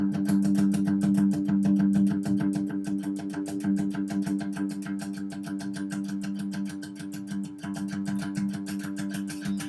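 Quiet distorted electric guitar chugging steady rapid sixteenth notes on a low chord in a speed-metal style, evenly picked and continuous without a break.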